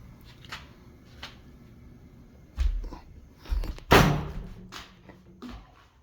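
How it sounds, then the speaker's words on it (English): A screen door bangs shut with a couple of dull thuds and a louder slap, heard close in a quiet room after faint shuffling. "That's the screen door."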